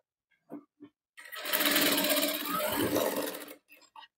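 Sewing machine stitching a boatneck blouse, a short isolated taps and clicks then a steady whirring run of about two seconds before stopping, with a few soft clicks after.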